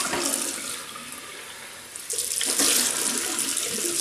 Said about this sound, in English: Just rinse off.